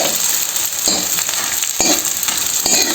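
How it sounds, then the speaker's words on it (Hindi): Edible gum (gond) frying in desi ghee in a pan, a steady close sizzle with a few sharp stirring clicks and scrapes spread through it, no voices. "ये जो गोंद है ये हमें ऐसे भूननी है घी में"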